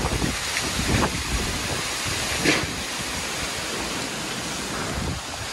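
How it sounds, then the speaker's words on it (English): Strong wind from Super Typhoon Rai in the Philippines roars steadily as a dense, close rush of noise buffeting the microphone, with brief louder gusts and no talking. "the wind is blowing a lot in this side"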